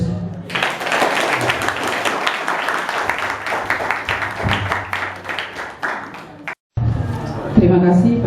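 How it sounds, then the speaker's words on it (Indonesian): Applause breaks out at a university thesis defence session, sustained clapping from a roomful of people for about six seconds, then a brief silence followed by voices and room noise. "Aplaus."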